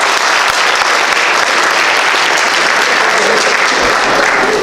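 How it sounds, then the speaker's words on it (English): High school audience clapping during a motivational talk in a school hall, loud and continuous, the many hands forming a thick, even roar from start to finish with no talk over it. "clap it up for yourself"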